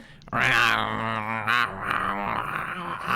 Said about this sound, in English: 3 humanoid heads stick out of the holes, each covered in putrid flesh and gnashing their teeth on an iron bit